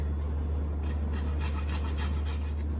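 Citrus zest being grated, scraped shallowly from the peel for a green coconut curry, giving a soft, close rasping in quick repeated strokes, faint and steady with no talk.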